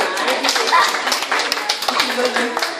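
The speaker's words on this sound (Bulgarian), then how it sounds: "Ляскаме с Злати, аплодисменти." A small group claps for Zlati during a children's magic show, a quick uneven patter of hands heard close by, with voices over it.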